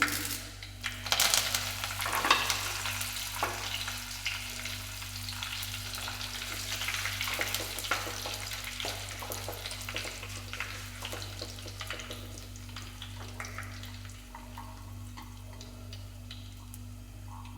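Curry leaves frying in hot oil for a green chilli curry, a continuous close crackling sizzle that is loud at first and gradually settles to a softer fry, with no talking.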